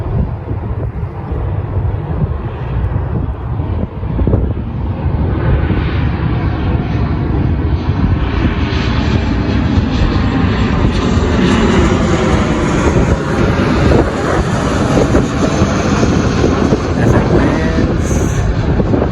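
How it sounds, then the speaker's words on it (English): A loud airplane roars close overhead while coming in to land near an airport, a heavy rumbling engine roar that stays strong and sustained throughout, with a whining rise in pitch near the end. "There's a plane landing right there."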